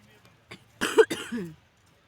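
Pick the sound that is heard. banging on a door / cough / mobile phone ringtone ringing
cough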